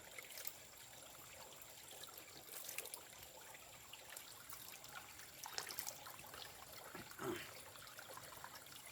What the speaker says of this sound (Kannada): ಇಲ್ಲಿ ಹರಿತಾ ಇದೆಯಲ್ಲ ಹೇಗೆ ಗುಡ್ಡದ ಒಳಗಡೆಯಿಂದ ಹರಿದು ಬರ್ತಾ ಇದೆ